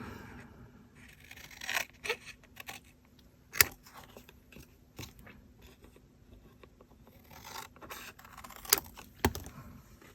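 Metal snips cut through card in a series of close, light clicks and scraping crunches, irregular and quiet, with small handling rustles between cuts.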